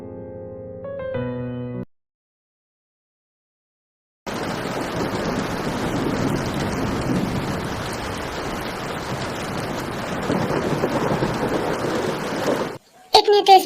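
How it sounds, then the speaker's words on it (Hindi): Heavy rain pours in a steady, dense roar that lasts about eight seconds, after a brief musical passage and a short silence. "इतनी तेज बारिश हो रही है,"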